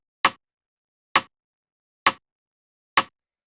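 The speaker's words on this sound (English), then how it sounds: "This is a pretty standard kind of like UK garage Rimshot that you hear in a lot of tracks." Four sharp, dry UK garage rimshot samples hit evenly about a second apart, each a crisp snap with a quick decay and silence between.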